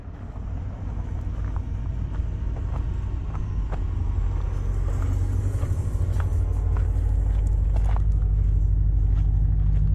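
A turbocharged Toyota Soarer with a 1UZ V8 idles outside, its exhaust giving a deep, steady rumble that builds slightly in loudness, close by with no talk.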